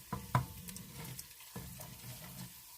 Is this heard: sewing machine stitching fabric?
no